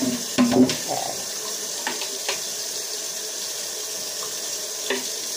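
Water running and spraying through the spigot of a Keurig K-Select coffee maker during a flush, a steady hiss with a few brief clicks and splashes near the start, heard close up and alone.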